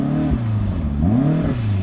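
A Yamaha VMax 4 snowmobile engine revs hard in a drag race, its pitch rising, dipping and rising again across two loud close surges of droning engine tone with no talk.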